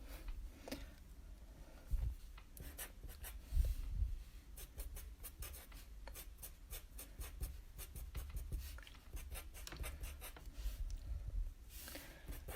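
A pencil draws small spikes onto a sketch of a bearded dragon's face, producing a run of quick, close, faint scratchy strokes in a steady rhythm with no talking.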